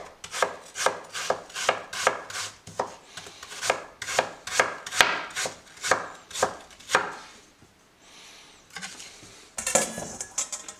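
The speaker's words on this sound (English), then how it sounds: "we're going to cut just to the side of the core, and then we'll flip it on and slice" A knife cuts down beside the core of an apple on a board, a quick run of crisp, evenly spaced chops close by, then a pause and a few scattered clatters at the end.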